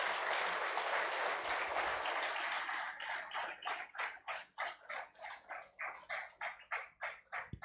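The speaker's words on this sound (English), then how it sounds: "let's also give each other a round of applause for that as well" Applause at a hackathon awards ceremony: a thick wash of clapping that thins into a slower, rhythmic unison clap, moderately quiet and with no talk over it.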